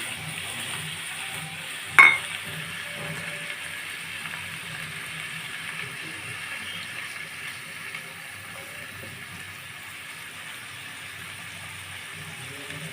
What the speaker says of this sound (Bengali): আমি এটা ভালোভাবে ভেজে নেব